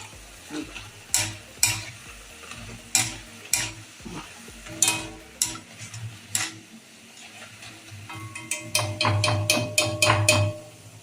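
Veg mix bonda frying in hot oil, a steady sizzle with rhythmic stirring and scraping strokes every second or so, bubbling growing louder and denser toward the end.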